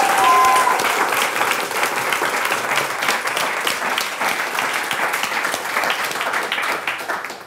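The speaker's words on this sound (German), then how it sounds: "Ein Applaus bitte!" A live audience at a poetry slam breaks into sustained, dense applause that stays strong throughout before tapering slightly at the end.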